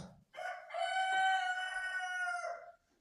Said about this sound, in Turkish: Horazım da ötüyor.